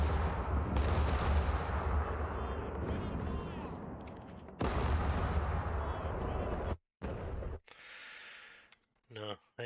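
Ship cannons firing at other ships in the pirate game Caribbean Legend, heavy rumbling booms and blasts that come in loud bursts and cut off abruptly, with a voice talking over parts of it.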